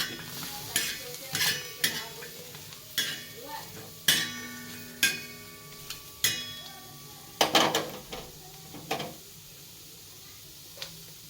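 Onions frying in a pan for a home-cooked Kannada meal, with sharp intermittent scraping and clinking of a utensil against metal over a faint sizzle, close and fairly loud in uneven bursts.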